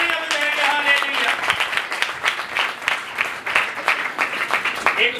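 Church congregation applauding Jesus on Palm Sunday, steady loud clapping throughout with crowd murmur and some voices mixed in.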